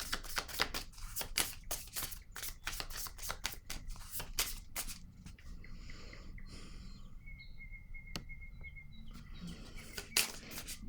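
Playing cards being shuffled and drawn, a quick run of crisp riffling snaps at the start that thins into soft, sparse card slides and taps in a quiet room.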